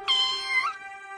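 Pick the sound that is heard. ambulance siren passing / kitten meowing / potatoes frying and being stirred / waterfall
kitten meowing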